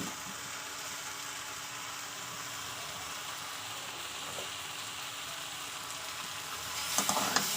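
Chicken with tomato and green chilli sautéing in a pan, a steady close sizzle running throughout with a few sharper stirring clatters near the end.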